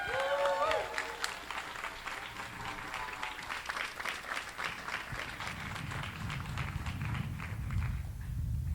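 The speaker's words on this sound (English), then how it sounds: "Another round of applause for Tyler Day Devlin" An audience at a taiko drumming competition applauds in a sustained, dense burst of clapping that gradually thins out, following a brief spoken voice at the start.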